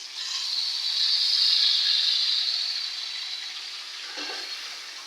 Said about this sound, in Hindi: अब हम इसमें मैरिनेट किया हुआ चिकन शामिल कर देते हैं।